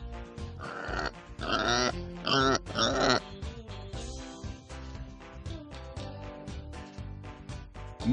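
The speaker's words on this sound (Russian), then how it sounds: "Свинья." Pig grunts and oinks from the Preschool Toolkin preschool learning game: several quick, snorting bursts near the start, then a steady cheerful game melody with a plucked beat carrying on underneath, moderately quiet overall and no voices.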